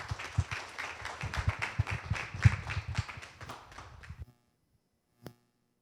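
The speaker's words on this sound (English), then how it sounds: "Let's give a round of applause to Christopher Bardt." Lecture audience claps for about four seconds, a dense, fairly loud patter of hands that stops abruptly, leaving near silence broken by a single faint knock.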